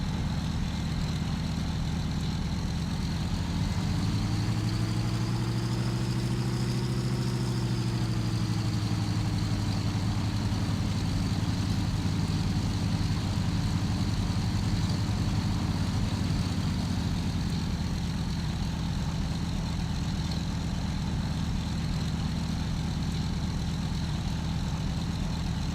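A Douglas aircraft's engine runs steadily while taxiing into position on the runway. The drone is loud and continuous, with a low tone that swells and bends in pitch for a few seconds before settling again.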